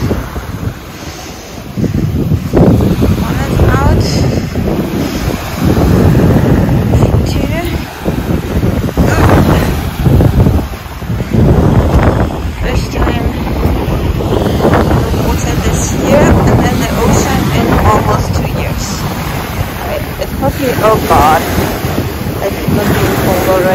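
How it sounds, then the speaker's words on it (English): Surf and strong wind on a cold stretch of the French Riviera coast near Villefranche-sur-Mer, with waves washing steadily and heavy wind rumble buffeting the microphone throughout, a voice speaking briefly over it. "Ocean."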